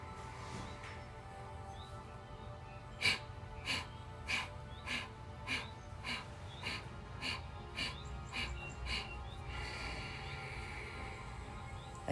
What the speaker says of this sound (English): So we'll do 11 cycles of the Kapalabhati breath